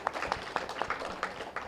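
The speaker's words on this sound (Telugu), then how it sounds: "మరి కార్యక్రమాన్ని నిర్వహిస్తున్న రాము సారు అండ్ టీం వాళ్ళందరికీ కూడా మరొకసారి గట్టిగా చప్పట్లు కొట్టుకుంటూ" An audience clapping at a youth event, a patchy run of claps with distinct sharp hits at an irregular pace, moderately close, with faint voices underneath.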